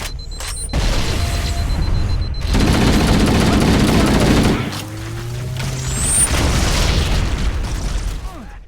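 Sticky grenade explosions and gunfire in the video game Halo: Combat Evolved Anniversary, a series of loud booming blasts and bursts with whooshing streaks, nearly continuous and close.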